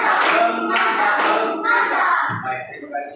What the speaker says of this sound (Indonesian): Kita berikan dia tepuk mantap.